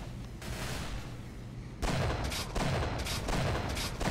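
Rapid gunfire in the Roblox shooter Arsenal, a dense steady stream of shots that grows louder and more punchy partway through, with repeated bursts cracking over continuous background noise and no talking.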